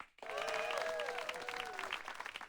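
Crowd cheering and applause in the video game Reverse: 1999 start after a brief hush and go on as sustained, moderately faint clapping, with drawn-out vocal cheers and tones sliding over it.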